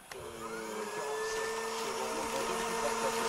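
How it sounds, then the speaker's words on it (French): A household vacuum cleaner runs steadily and loudly with a sustained whine and airy roar from start to finish, on a stage comedy show set at a campsite. "il n'y a pas encore de volume sur l'aspirateur"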